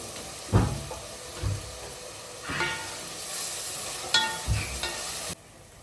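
Onions fry in a pot with a steady hiss and sizzle, broken by several scraping stirs of a spoon at irregular intervals, close and fairly loud.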